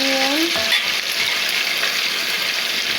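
Onion frying in hot oil while cooking a chicken rice meal, a steady dense sizzle and crackle throughout, close and loud, with a brief short voice note at the start.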